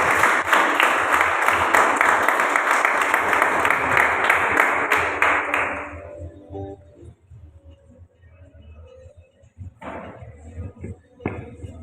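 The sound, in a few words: audience applause in church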